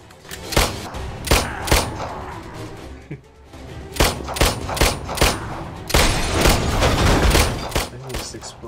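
Explosions and gunfire in World War Z on iOS come as repeated sharp booming bursts, some in quick clusters, loud and up front over a busy game soundscape.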